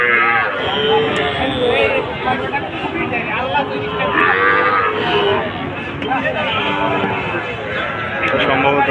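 Cattle at a busy livestock market, including border cattle, make repeated moos and lowing. Dense crowd chatter and bargaining voices are mixed in and continue steadily throughout.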